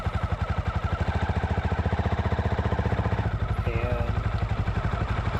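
A Honda CRF450L dirt bike runs with a steady, rapid thumping single-cylinder beat, close and loud throughout, with a slight change in pitch near the end.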